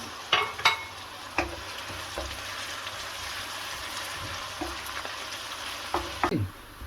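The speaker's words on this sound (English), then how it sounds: "we're going to cook these onions until they're a nice golden brown color" Onions sizzle and fry in a pan with salt as they cook toward golden brown for chicken saag, a steady hiss broken by a few sharp stirring scrapes near the start and end, with no talking.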